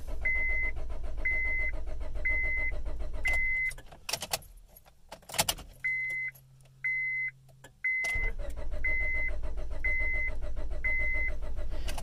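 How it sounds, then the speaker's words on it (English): A 2001 Honda Civic with a long-cranking fault: a repeating door chime and key jingles, then a stretch of starter cranking before the engine catches and settles into a loud, steady idle. "Long cranking Honda Civic 2001."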